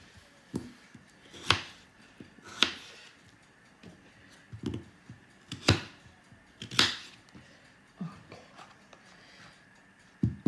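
A knife chops through food on a board in scattered single cuts, sharp thuds spaced a second or so apart, close by, no voices.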